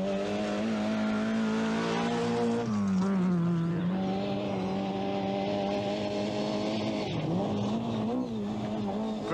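A Vauxhall Nova rally car, up to 1300cc class, racing on a 1988 British Open Rally Championship stage, its engine droning loud and close, the pitch dipping and rising through gear changes and throttle lifts, with no talk over it.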